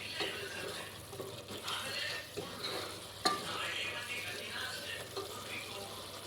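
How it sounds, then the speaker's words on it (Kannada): Tomato bath masala mixed with yogurt fries on low flame, a continuous soft sizzle with wet bubbling and occasional spatula scrapes and taps, near and fairly quiet, with no one speaking. "ಲೋ ಫ್ಲೇಮಲ್ಲಿ ಇದನ್ನು ನಾವು ಫ್ರೈ ಮಾಡ್ಕೊಳ್ಳೋಣ"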